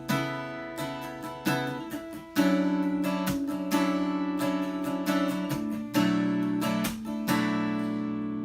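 Steady acoustic guitar strumming of chords in a repeating down-up pattern from the bridge of a song, with bright sustained strings ringing between strokes and chord changes every couple of seconds, played close with no voice.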